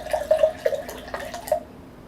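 A chunky, deep purple corn drink is poured, giving faint, close, irregular drips and small splashes that end in quiet after about a second and a half.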